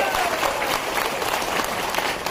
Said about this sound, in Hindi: तालियों की गड़गड़ाहट लगाओ अपने आप के लिए